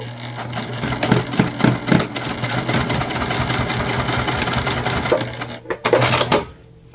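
A sewing machine runs in a fast, steady stitching rhythm while joining two fabric pieces right sides together for a candy bag, close and loud, pausing briefly near the end before a final short burst.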